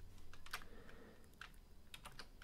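Quiet computer keyboard typing at a desk, a few irregular soft key clicks in short bursts over faint background hum, no speech.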